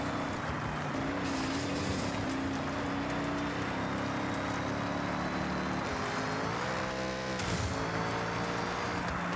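A car engine in the Forza Horizon racing game roars loud and steady under full throttle. Its pitch sweeps and shifts near the end, as if through gear changes, with no talk over it.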